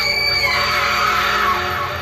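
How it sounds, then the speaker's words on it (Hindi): A woman screams in terror in a horror tale, a loud, sustained, strained cry that holds steady for about two seconds over a dense, continuous backing. "निधि चीख पड़ी"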